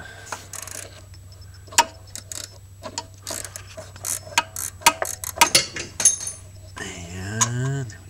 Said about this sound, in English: I'm gonna have to use a wrench. At least I have a ratcheting box and wrench.